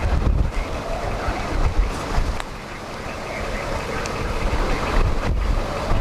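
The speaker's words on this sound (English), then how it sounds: "Large multi-vortex structured tornado." A steady, heavy roar of wind from a large multi-vortex tornado on the Texas South Plains buffets the microphone continuously, rumbling low and broad without pause, with no clear talk over it.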